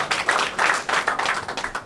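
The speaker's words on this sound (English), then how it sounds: "He needs a round of applause, this kid, honestly." An audience at a post-fight kickboxing press conference in Los Angeles gives a short burst of dense, close clapping for a young fighter, lasting under two seconds with no talk over it.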